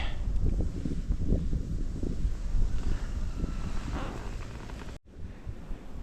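Strong wind on open water during winter ice fishing from a boat buffets the microphone in a continuous low rumble with gusty surges, briefly cutting out near the end before resuming.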